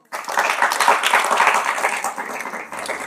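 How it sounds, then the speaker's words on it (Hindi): Students in a tuition class clap together in sustained, dense applause for a classmate's test result, steady and fairly loud for about three seconds before tapering slightly. "अगले तालियां बजाओ।"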